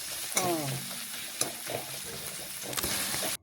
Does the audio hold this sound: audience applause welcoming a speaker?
no